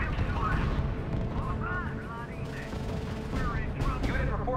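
Heavy battlefield gunfire in the RUSE strategy game, rapid bursts and rattling shots layered over rumbling explosions, continuous and dense with a few voice-like tones mixed in.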